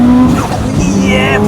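A 500 bhp Subaru Impreza WRX STI with a built 2.1L engine pulls hard, its loud engine note climbing in pitch amid a brief tire squeal, with a voice faintly present underneath.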